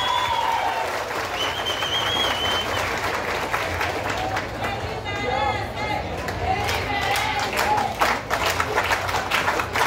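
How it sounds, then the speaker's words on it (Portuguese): A crowd applauds at a hometown honoree ceremony in Tiros, Minas Gerais, with steady dense clapping mixed with chatter and cheering voices, and a whistle-like tone rising through the background. "Aplausos a Evair Aparecido da Silva."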